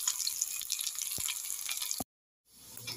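Dry red chillies and onions crackle and sizzle in a little tempering oil with mustard and cumin seeds. The frying is quiet and continuous, with a few sharp pops, then stops abruptly before faintly returning.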